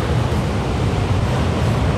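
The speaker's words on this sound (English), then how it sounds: "We are doing a quick hike to the cascades, or waterfalls, and yeah, you can actually hear them before you see it" Waterfall cascades on a hike in Patagonia roar as a loud, steady broadband rush of falling water, dense and continuous from start to finish with a rumbling low end and no voices.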